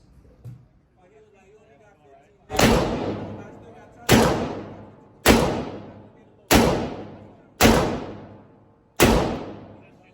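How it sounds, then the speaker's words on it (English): A Smith & Wesson Model 19 revolver fired at an outdoor range: six loud, sharp shots with booming decays, spaced roughly a second or so apart, after a brief quiet lead-in. "I'm about to head to the range and show you guys a little footage of how this shoots."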